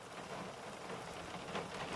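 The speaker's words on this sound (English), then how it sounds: "there's a lot of rain. Visibility is a little bit low" Heavy rain falling outdoors in poor visibility, a dense continuous hiss of drops at even loudness, with no voices.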